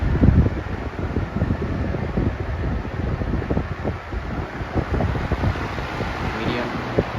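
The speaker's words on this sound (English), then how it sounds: "I was actually shocked. Like, literally shocked at how much air this thing moves." Vintage 1998 Weatherworks DB-888 fan blowing air, a steady close whoosh with a faint lamp rattle, running under ongoing talk.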